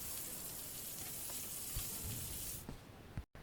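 Fish pieces fry in hot oil, giving a continuous soft sizzle that stays fairly quiet and close, then fades and cuts off near the end.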